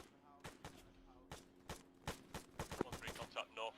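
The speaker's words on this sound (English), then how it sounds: "I'm firing overhead!" Gunfire in an Arma military training campaign, sharp single shots and short bursts cracking at an uneven pace, growing denser toward the end, mid-distance over a low steady hum, with voices briefly under the shots.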